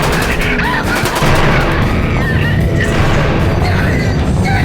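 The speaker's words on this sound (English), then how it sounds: "Fire, open fire." Gunfire in an audio drama about a containment-site incident: a loud, dense, continuous barrage of shots and booms filling the whole stretch, with no clear gaps.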